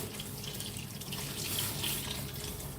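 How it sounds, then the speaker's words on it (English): A kitchen tap runs steadily, filling a cooking pot with water for a long-simmering Nigerian afang or egusi soup, a continuous close splashing rush. "Top it some more water"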